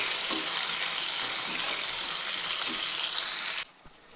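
Onion and a small tomato fry in a pan over gas for a pea pulao, giving a steady, close sizzle with faint stirring taps that stops abruptly near the end.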